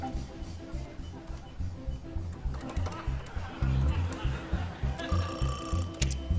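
Telephone ringing after a number is dialled, a repeating ring pattern in the background with chatter and low rumbling over it.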